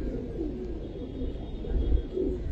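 Giribaz pigeons cooing softly in a loft, low murmuring coos repeating steadily over a continuous background hum.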